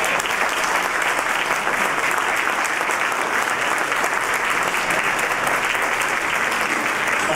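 Sustained, dense audience applause at a community landfill summit, loud and even clapping throughout with no break.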